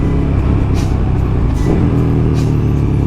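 Motorcycle engine running steadily while being ridden, with a low rumbling drone and slight pitch changes as gears shift up to second and back down to first, close and loud throughout.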